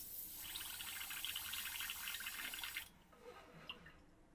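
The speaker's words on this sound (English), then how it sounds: "Just going to give this a quick clean out. Get rid of that shade. Just with water." Water runs through an airbrush during a quick rinse, a steady trickling splash that stops abruptly near the end, followed by a few faint drips and clicks.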